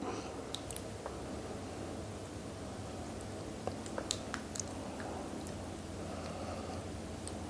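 Someone eats coconut-milk noodles with crisp vegetables and pork rinds, with soft, wet chewing and occasional sharp crunchy bites and clicks close up, no talking.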